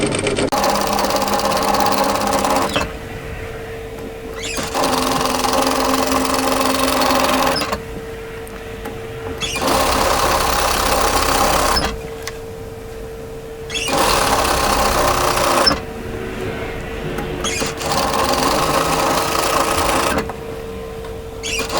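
A sewing machine stitching a tee shirt or dress hem, using the presser foot as a width guide, with a loud, close, steady whirring hum that runs in bursts of several seconds and stops in brief pauses between them.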